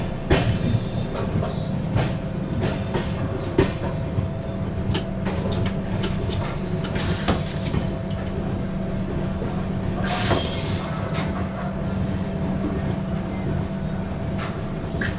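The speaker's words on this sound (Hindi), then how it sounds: "ट्रेन अपनी दोस्तों पहुँच रही है मुरादाबाद जंक्शन पे" The Kashi Vishwanath Express pulls into Moradabad Junction with a continuous heavy rumble of rolling stock, scattered clatter and a sharp burst of wheel squeal partway through, loud and close throughout.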